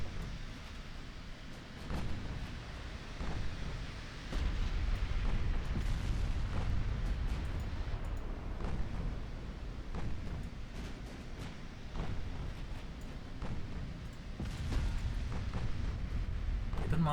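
Naval shell hits and explosions in the Ultimate Admiral Dreadnoughts warship game, a continuous heavy rumble of booms and blasts with repeated sharp impacts over the whole stretch, loud and close.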